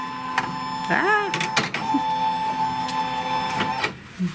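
A Kimberbell embroidery machine wakes up with a series of short electronic beeps and tones, a brief motor whir and a few mechanical clicks. The sounds are close and moderately loud over a quiet room.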